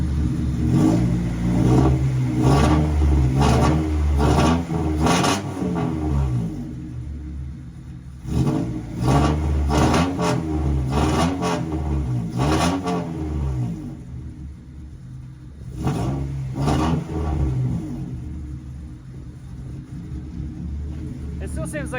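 A Honda Civic EG with a loud, harsh exhaust revs repeatedly up and down near at hand, its idle sounding rough and hesitant between bursts, with a voice faintly in the background.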